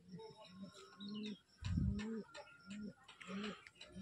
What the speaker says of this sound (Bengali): এগুলো বিটার পায়রা সব।